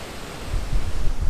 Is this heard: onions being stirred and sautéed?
no